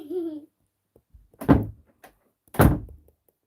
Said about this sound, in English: Close the door, please.